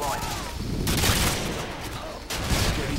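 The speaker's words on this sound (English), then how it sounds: "they're using shotgun too" Shotgun blasts in Call of Duty: Modern Warfare 2 on the Storm map in a Domination match, loud bursts of game gunfire in a dense, continuous barrage with a heavy boom near the end.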